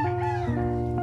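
A pet cat meows once, close and clear, a drawn-out tonal cry lasting about a second.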